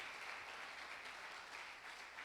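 A church congregation applauding, a dense and steady wash of many hands clapping at once, continuous throughout and fairly distant.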